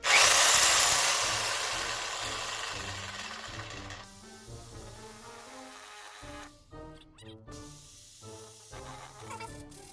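A power tool whines loudly as it cuts into plastic for a lightsaber hilt, the high buzzing peaking at the start and then tapering, followed by irregular motor bursts and stops.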